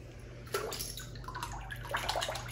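A handmade wooden buzzbait lure is drawn through a water test tank, churning and splashing in uneven bursts that grow busier toward the end, close by with no talking.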